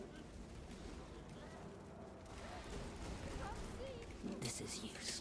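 Video game gunfire bursts and rumbles in a dense, moderately loud wash, with voices talking over it.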